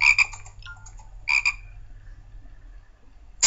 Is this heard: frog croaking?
yes